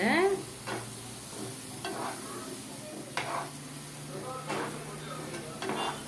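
Garlic pickle with tamarind sautés in a pan, a low steady sizzle broken by a spoon's stirring scrapes and clacks about every second. A voice is briefly heard at the start.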